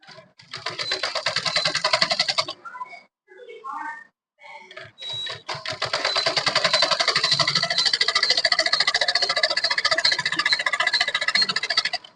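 A sewing machine runs in close, steady bursts of rapid stitching along a kurti seam, stopping briefly in the middle around a few quiet spoken words before it runs on in one long, even stretch.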